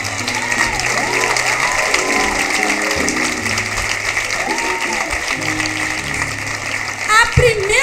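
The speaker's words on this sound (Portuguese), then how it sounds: "Aplausos a Jesus." Congregation applause at a church testimony, continuous and moderately loud clapping beneath sustained music and voices, with a brief louder burst near the end.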